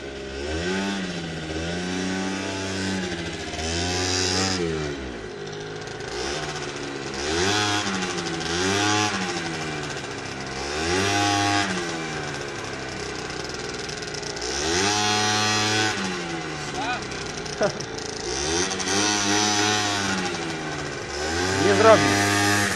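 A Gilera Runner scooter engine revs hard again and again, its buzzing two-stroke whine climbing and falling in repeated surges over more than twenty seconds, loud and close, with people talking faintly in the background.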